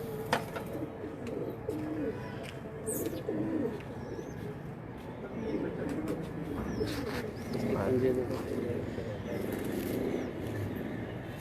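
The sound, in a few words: pigeons cooing, gifted pigeons from Gujarat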